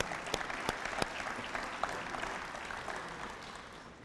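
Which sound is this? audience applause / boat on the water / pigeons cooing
audience applause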